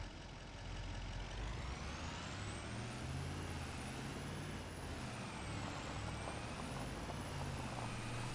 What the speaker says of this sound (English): I had gotten the truck ready to go here